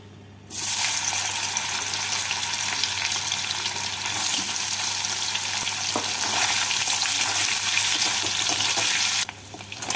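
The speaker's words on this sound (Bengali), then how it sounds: "পনিরগুলোকে ভেজে তুলে নেব।" Paneer frying in hot white oil in a wok on a gas stove, an even, close crackling sizzle that starts abruptly and runs steadily for about nine seconds before cutting off.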